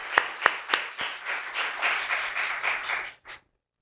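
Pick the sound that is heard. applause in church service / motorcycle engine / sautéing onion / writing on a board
applause in church service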